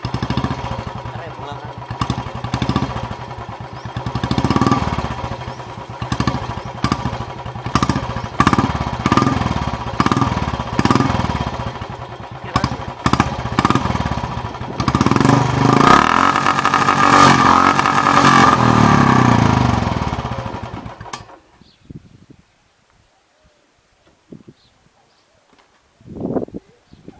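A motorcycle engine fitted with an aftermarket silencer, revving repeatedly close by in loud, throaty bursts for about twenty seconds before cutting to near silence, with a short final blip.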